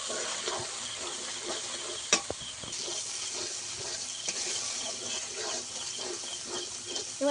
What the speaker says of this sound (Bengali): এবারে মশলাটাকে আমি ভালো করে কষিয়ে নেব।